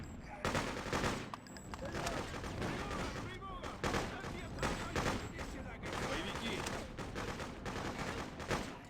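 Dense, continuous bursts of game gunfire and explosive shots from the shooter Freedom Fighters, a chaotic overlapping battle din that persists at steady loudness throughout.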